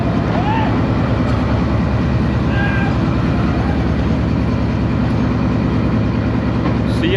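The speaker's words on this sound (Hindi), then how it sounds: "गुजरात रेलवे स्टेशन से डिपार्चर हो गया 101 अब सुबह रफ्तार रेल कार का" The Subak Raftar railcar train pulls out of Gujrat station in Pakistan with a continuous low rumble and faint intermittent squeaks, with no voices.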